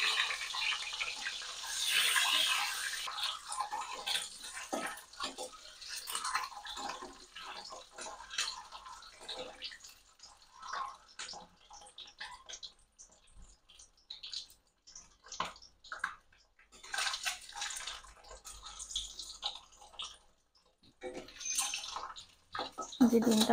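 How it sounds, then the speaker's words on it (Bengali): Eggs and potatoes frying in oil with a pinch of turmeric, giving a soft, uneven crackle and sputter with scattered pops, fairly quiet and close, while a voice talks intermittently. "এই তেলটার মধ্যেই আমি ডিম আর আলুটাকে ভেজে নেব।"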